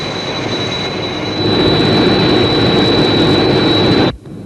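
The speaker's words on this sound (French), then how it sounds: "Un autre avion vient tout près du nôtre." Another aeroplane flying close alongside in an animated Thunderbirds episode, a loud, continuous jet roar that swells slightly midway and then cuts off abruptly near the end.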